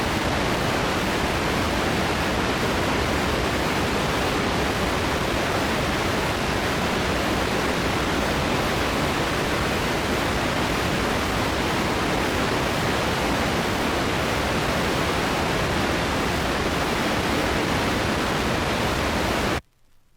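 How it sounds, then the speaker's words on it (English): Steady full-range pink noise plays on both stereo channels as an equalization test signal, a constant loud hiss lasting about twenty seconds before cutting off abruptly. "Here is 20 seconds of all frequency pink noise on both channels for this balancing"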